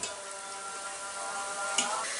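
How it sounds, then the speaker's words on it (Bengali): Onions frying in oil over medium heat for crispy Bangladeshi beresta, a steady close sizzle running unbroken throughout with a faint clink near the end. "তো এই মাঝারি আঁচে আমি এটাকে ভেজে নিই।"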